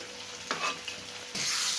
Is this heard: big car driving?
no